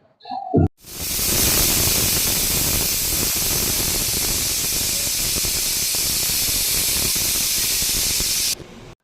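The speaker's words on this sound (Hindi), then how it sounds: "और उधर दोस्तों उबल रहे थे भुट्टे" A loud, steady hiss of steam from a pot of boiling corn starts abruptly after a brief clatter and runs unbroken before cutting off near the end.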